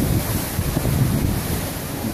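Strong, steady tropical storm wind from Typhoon Pam in Noumea, gusting around 50 mph, roars across the microphone with heavy buffeting rumble, continuous and loud, no voices.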